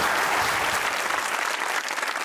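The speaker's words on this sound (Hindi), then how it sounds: "तालियां होनी चाहिए" A studio audience at a comedy talk show applauds with dense, continuous clapping that holds at a steady level throughout, with no voices over it.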